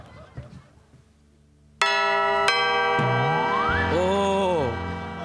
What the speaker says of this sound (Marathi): बेल वाजूया